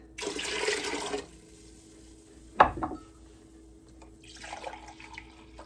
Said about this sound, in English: I'm going to go ahead and add my vinegar to the mix